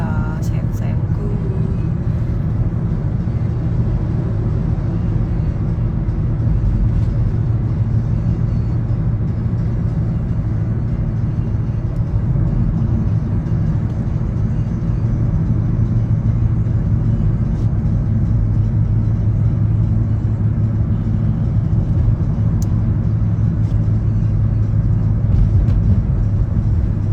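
Steady low road rumble and engine drone inside a moving car, continuous throughout with someone speaking over it.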